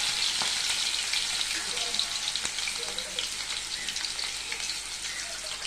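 Beans frying in a pan for vegetable biryani give a steady, loud, close sizzle with a dense crackle that holds evenly throughout, no voices.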